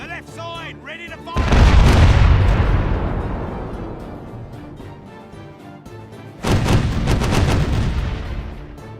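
A broadside of cannons fires from a ship's left side in the Caribbean Legend pirate game, two heavy rolling volleys of booming blasts that ring out and decay slowly, the second following a few seconds after the first.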